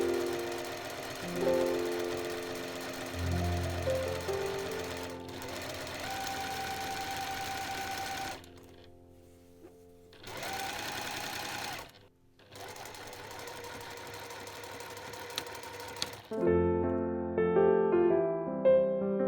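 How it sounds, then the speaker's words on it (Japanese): Sewing machine stitching along both edges of shoulder bag fabric panels, loud steady whirring runs broken by short pauses, then a final burst with a faint high tone. "待ち針で留めて両方の際を縫っていきます。"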